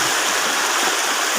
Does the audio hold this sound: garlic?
no